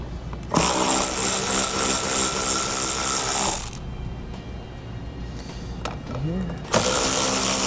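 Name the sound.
socket tool removing mirror bolts on 2014 Chevrolet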